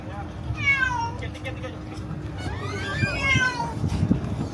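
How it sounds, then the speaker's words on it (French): A cat meows twice in drawn-out, wavering cries over the engine rumble of a fast boat near Lombok's Gili Islands, with a voice speaking in the background. "c'est pas les mioches qui pleurent, c'est le chat qui miaule."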